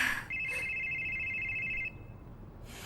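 An electronic phone ringtone sounds, a steady high tone that holds for over a second and then cuts off, over quiet background.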